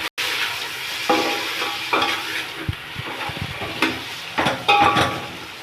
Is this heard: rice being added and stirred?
yes